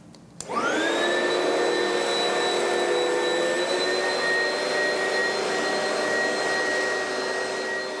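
A vacuum cleaner starts up with a quick rising whine and then runs at a steady, loud, high-pitched drone for several seconds, with no voices.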